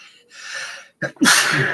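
A single loud sneeze up close, preceded by a sharp breathy inhale, ending in a forceful burst of air.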